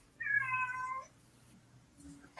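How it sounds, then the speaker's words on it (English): A house cat gives a single clear meow, close and moderately loud, over a quiet room hum with no talking. "Yep, there's the cat."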